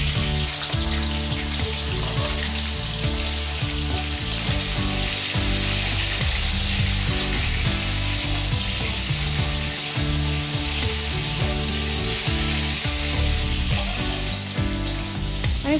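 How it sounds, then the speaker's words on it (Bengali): Crabs sizzle and crackle steadily in hot oil left over from frying potatoes, a continuous close frying hiss with occasional stirring knocks and a low background hum. "আলু ভাজা তেলের মধ্যেই আমি কাঁকড়াগুলোও ভেজে নেব।"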